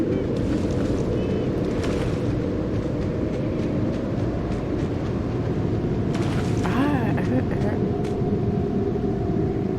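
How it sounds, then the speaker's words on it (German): Steady low wind roar fills the scene continuously in the video game Lost Ember, with a brief whooshing gust and faint tonal warble toward the end. "Das ist ein bisschen windig."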